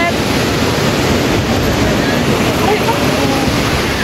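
Loud, continuous roar of sea waves and surf at the beach, a dense unbroken wash of water noise with wind buffeting the microphone.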